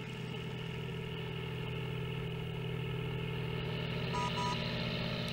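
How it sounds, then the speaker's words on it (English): A taxi's car engine idles steadily at close range, a continuous low mid-pitched drone with faint rattles and no other sounds. "Taxi."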